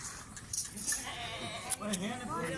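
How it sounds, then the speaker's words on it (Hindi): A female goat bleats at a livestock sale, short wavering calls near the end while someone talks over them. "ये देखें बहुत अच्छी बकरी है माशाल्लाह"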